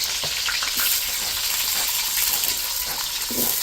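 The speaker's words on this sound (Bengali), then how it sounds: "তো কীভাবে ভাজছি দেখো, এটা অনেক মাংস" Chicken meat frying with onion and garlic in a home kitchen pan, a steady loud sizzle with a few soft clinks and stirring scrapes throughout.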